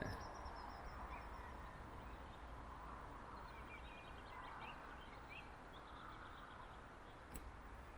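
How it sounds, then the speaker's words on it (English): Faint birds calling in the distance by Nærøyfjord, Norway, scattered honking calls over a quiet, steady background hiss. "I'm not sure if you guys can hear those birds"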